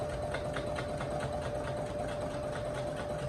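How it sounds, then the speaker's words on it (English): A sewing machine hums steadily up close while back stitching fabric for a gift card holder, with a continuous motor drone and a fine rapid needle rhythm throughout. "I'm going to back stitch one more time."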